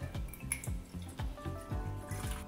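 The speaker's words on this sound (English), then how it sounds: "So now we're going to pour it through the cheesecloth." Cold brew coffee poured through cheesecloth after being pressed past a plunger filter, falling in a steady run of close, distinct drips and splashes with no talking.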